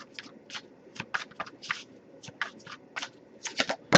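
Oracle cards being shuffled in quick, irregular bursts of riffling and slapping, close to the microphone, with no talking.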